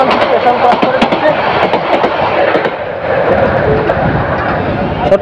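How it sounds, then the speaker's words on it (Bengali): Mohanagar express train bound for Dhaka rushing through Amirganj station at speed, loud continuous rumble with rapid clattering wheel clicks and rail noise, close by. "ঢাকা অভিমুখে মহানগর বদলি ট্রেনটি দ্রুত গতিতে আমিরগঞ্জ স্টেশন ক্রস করে দিচ্ছে।"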